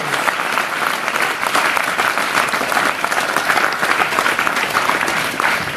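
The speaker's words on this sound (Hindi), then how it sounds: "आइए यीशु के लिए ताली बजाएंगे जोर से।" An audience at a religious sermon applauding loudly, dense sustained clapping from many hands throughout, close and even.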